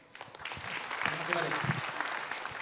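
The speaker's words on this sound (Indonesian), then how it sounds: "beri tepuk tangan sekali lagi untuk Eza dan juga Mukmin" A live audience at a stand-up comedy semifinal claps in a brief burst of applause, moderately loud and rising then easing off, with faint talk in the background.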